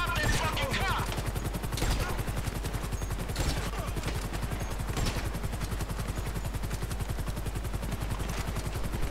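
Rapid, continuous automatic gunfire in Grand Theft Auto V rattles in a steady stream of sharp shots over a low engine drone, with voices talking underneath.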